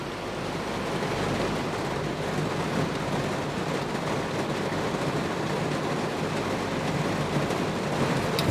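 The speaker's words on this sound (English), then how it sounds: "The intensity of that rain's picking up." Heavy rain drums on the roof of a camper van parked beside a river, a dense, continuous hiss and patter that stays steady and loud throughout with no voices.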